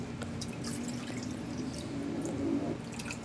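Cornstarch dissolved in water poured into a pan for maja blanca, heard as soft, faint liquid trickling and dripping sounds against a low background hum.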